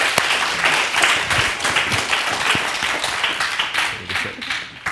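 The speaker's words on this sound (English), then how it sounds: "Give them a round of applause." Applause from the audience at a panel event, many hands clapping in a dense, steady wash that stays loud throughout, with some voices under it.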